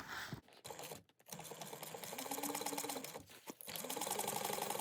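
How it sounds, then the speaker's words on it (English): A sewing machine stitches the back part of a garment along a quarter-inch seam, running in a fast steady rattle with a couple of brief stops and restarts, close and prominent. "we're going to now start sewing on the back part"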